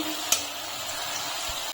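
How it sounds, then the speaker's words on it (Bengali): Stuffed papad, a filled lentil wafer, deep-frying red-brown in hot oil: a steady close hiss of sizzling throughout, with one brief sharp clink near the start and the sound cutting off at the end. "আমি একইভাবে লাল করে ভেজে নেব।"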